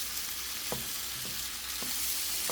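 Smoked sausage frying in a pan with a steady, close sizzle and a few soft clinks and scrapes from stirring.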